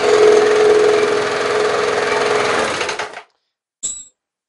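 A Briggs & Stratton lawn mower engine runs with a loud, buzzing, rattly drone for about three seconds, then cuts out abruptly, followed by a short metallic sound after a brief pause.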